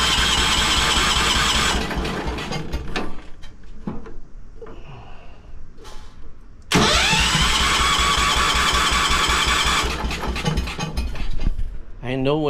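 The small engine of a 1973 Wheel Horse tractor cranks in a loud sustained burst, stops through a quieter stretch with faint clicks, then cranks hard again with a rising whine and mechanical rattling.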